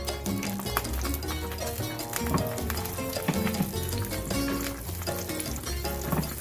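Mushrooms stir-fried in a pan with olive oil, a busy crackling sizzle broken by scraping and clinking of a utensil stirring, fairly close and continuous.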